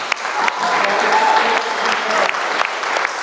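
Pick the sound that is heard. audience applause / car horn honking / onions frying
audience applause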